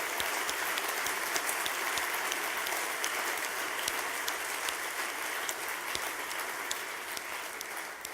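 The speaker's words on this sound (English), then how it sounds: "we should give a big round of applause to Jonathan and Setari" A conference opening-ceremony audience claps steadily throughout, a dense, sustained round of applause with no voices standing out.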